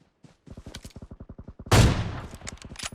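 Automatic gunfire in PUBG Mobile, a rapid even burst of shots followed by a louder heavier blast and more scattered rounds, close and sharp.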